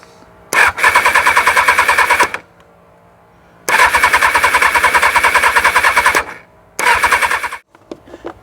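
A 1999 Kawasaki ZX6R engine cranks over on a battery booster box in three long bursts of rapid, rattling starter turnover, loud and close, without firing, separated by short quiet pauses.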